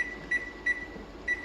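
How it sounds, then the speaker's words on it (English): Kitchen timer being set while butter is canned, giving four short, faint electronic beeps at irregular intervals over quiet room hum. "I'm just going to go ahead and set my timer and be done with it."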